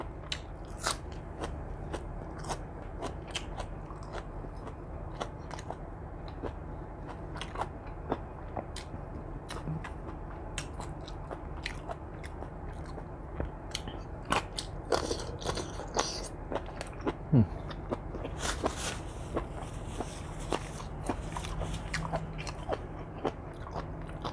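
Someone chews spicy pounded squid tentacle salad up close, with many sharp crunches and bites in a quick, irregular rhythm that carries on for over twenty seconds, with no talk.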